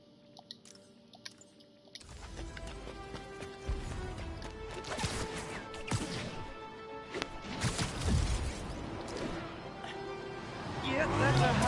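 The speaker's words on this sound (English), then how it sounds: "Yep, that's a high-speed car chase," A high-speed car chase in the Spider-Man PS4 game starts suddenly after a quiet lead-in, with dense engine roar, impacts and crashes that build louder toward the end, and voices mixed in.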